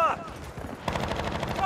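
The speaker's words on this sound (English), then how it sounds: "Machine gun, take cover!" Machine gun fire in the video game Battlefield Bad Company, a loud, rapid burst of automatic shots that swells partway through and carries on to the end among other game sounds.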